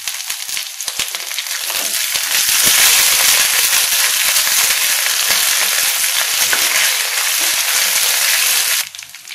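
Onions frying in hot oil in a pan for Kerala fish curry with coconut milk, a loud, dense, continuous crackling sizzle that swells after a couple of seconds and cuts off abruptly near the end.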